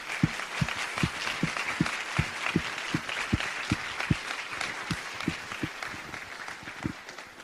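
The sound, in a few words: audience applause for program committee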